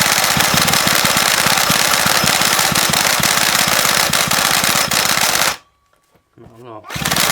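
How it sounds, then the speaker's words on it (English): A cordless drill spins over the engine of a Stihl FS300 two-stroke strimmer that has sat unused in a shed for years, making a loud, rapid mechanical rattle that stops abruptly, followed by brief people talking. "let's see what happens if we turn it over with the drill"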